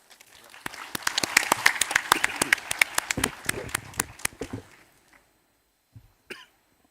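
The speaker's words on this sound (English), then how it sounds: "Once again, give a round of applause, ladies and gentlemen." Applause from a forum audience at the close of a sustainability panel swells into dense, lively clapping, then thins out and fades, with a cough near the end.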